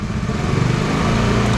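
A motorcycle engine revs up loud and close, a steady droning roar that rises slightly in intensity, while the charging voltage and regulator are being checked, with no talking.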